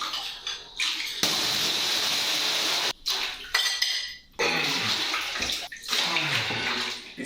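Water gushes steadily into a container in several bursts, about 10 liters in all, with brief pauses and faint clinks between pours.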